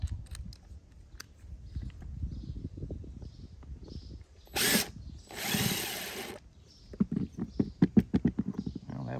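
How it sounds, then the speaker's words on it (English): A power drill pre-drills holes into an RV roof while a flexible solar panel is being installed: one short whirring burst, then a longer one, with scattered knocks and taps around them. "Go ahead and pre-drill."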